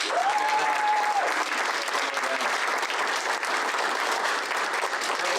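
Sustained applause fills a city council chamber, a dense even patter of many hands clapping at once that holds steady throughout.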